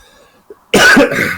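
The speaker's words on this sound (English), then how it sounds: "That's going to cause a lot of coughing." A single harsh cough bursts out loudly after a faint, brief noise, then trails into rough throat-clearing close to the listener.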